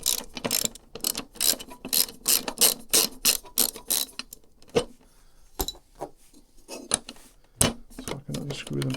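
Ratchet wrench clicking in quick bursts while loosening bolts on a BMW R1300 GSA motorcycle panel, close and crisp, with pauses and some handling noise between runs.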